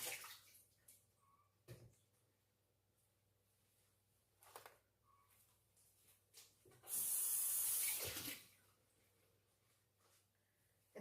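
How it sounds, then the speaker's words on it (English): Tap water runs in a strong burst for a couple of seconds over greenhouse lettuce being rinsed, amid quiet kitchen handling noises and soft knocks before and after. "I'm going to rinse this off and we're going to get to chopping them."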